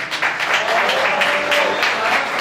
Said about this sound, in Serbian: Molim vas veliki aplauz za njih.